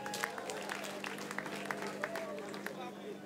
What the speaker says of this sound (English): Please put your hands together for the DJ.